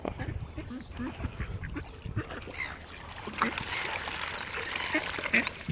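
Ducks quack intermittently while being fed outdoors alongside seagulls, with bird calls rising over the second half amid background noise; people talk nearby.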